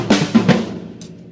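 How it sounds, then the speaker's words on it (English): Drum hits from a drum solo pattern with a single snare stroke and no ghost note, a few sharp strikes in quick succession ringing briefly, then a faint cymbal-like tick, close and alone. "I prefer playing it with only the one snare drum hit without the ghost note"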